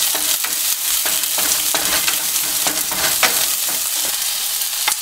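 Chili sizzling in a little olive oil in a pan, with steady loud frying crackle and repeated scraping stirs throughout.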